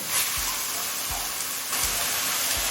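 Ginger garlic paste sautéing in a pan for chicken soybean ghugni: a steady broadband sizzle and hiss with a few soft low thumps of stirring, no voices.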